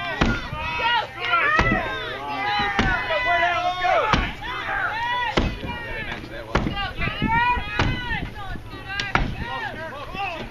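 Sharp axe chops land one after another in an uneven rhythm, loud and close, as a competitor works through a large log in an underhand chop at a timbersports championship, with a crowd and voices murmuring underneath.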